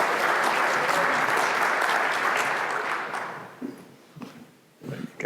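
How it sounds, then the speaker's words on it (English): Audience at a real estate standards conference session clapping loudly and steadily for about three seconds, then fading into scattered claps and faint murmurs. "everybody give them a big round of applause"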